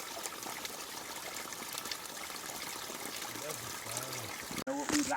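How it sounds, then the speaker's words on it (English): A small year-round stream in a southern Appalachian spruce-fir forest, trickling and splashing steadily nearby under hikers' voices, with a brief abrupt bump near the end. "We got a nice little stream."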